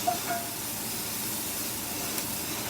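Onions and mushrooms sizzling in a cast iron skillet: a steady, close hiss and crackle of frying that holds level the whole time, with no talking.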